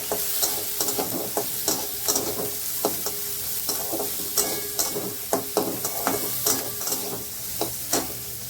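A clove of garlic sizzles in hot oil in a pan, with a steady frying hiss and regular scraping knocks from stirring, close and fairly loud, no voices.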